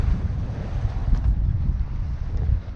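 Strong wind buffeting the microphone with the rush of waves against the hull of a Bavaria 41 sailing yacht underway, a loud, steady roar with no talking.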